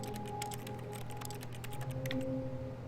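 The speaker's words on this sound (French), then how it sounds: "Quand j'appuie sur X, je tape sur un clavier." Rapid, steady clacking of a computer keyboard in the office video game The Stanley Parable, continuing throughout over a low ambient hum and faint tones.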